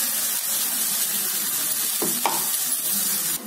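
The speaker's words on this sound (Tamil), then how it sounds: "வெங்காயம் போட்டுக்கலாம். நல்லா வதக்கிக்கலாம்." Onions sautéing in a frying pan, a steady close hiss of sizzling oil throughout, with a couple of brief clinks of a utensil stirring near the end.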